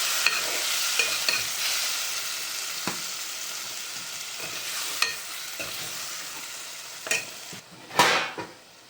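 Sev tomato curry being stirred with salt in a pan, a constant sizzling hiss with occasional scrapes and a louder clank of the spoon near the end.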